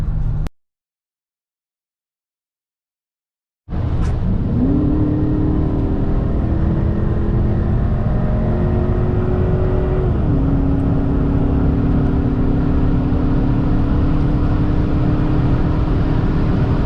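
A Dodge Challenger R/T V8 starts up after a silent gap and accelerates, its loud, close engine note rising through gear changes in a steady, continuous roar.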